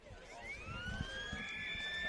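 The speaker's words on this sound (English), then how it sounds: "So there's a siren." A siren sounds at a women's division five Australian football grand final, a long rising wail heard from a distance across the ground while crowd noise continues underneath.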